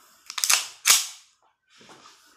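A Hi Capa 5.1K airsoft pistol fires two sharp, loud cracks about half a second apart, then a quieter mechanical rattle follows.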